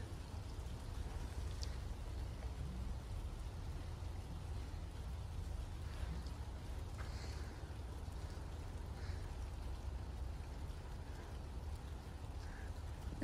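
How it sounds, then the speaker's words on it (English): Steady, heavy rain falls outdoors in Livermore, California, a dense, even wash of noise with a strong low rumble that continues unbroken and fairly quiet throughout, with no voices heard. "Definitely raining quite hard out here outside my films."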